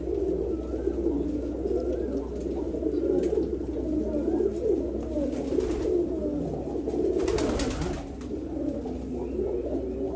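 A male Jaggala racing pigeon coos nearby in low, rolling, repeated calls over a steady background hum.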